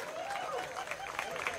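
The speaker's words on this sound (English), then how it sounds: "I want a big round of applause for my wife" Audience at an outdoor Music on the Green concert breaks into steady, dense clapping with a few voices mixed in, sustained throughout.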